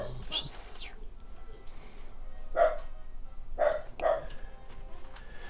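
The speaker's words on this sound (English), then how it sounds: "The dog goes wild." Short excited dog barks come in three quick bursts after a brief high yelp, fairly close and moderately loud against a quiet room.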